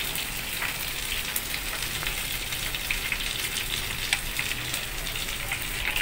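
Fish fries in a pan with a steady, close sizzling hiss and crackle that keeps up evenly for the whole stretch, with no voices over it.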